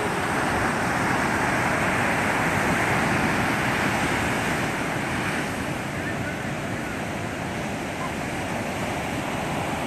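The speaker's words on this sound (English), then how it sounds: "Such a beautiful view of the beach." Ocean surf rolling onto the shore at Mission Beach at sunset, a loud continuous wash of breaking waves mixed with wind buffeting the microphone.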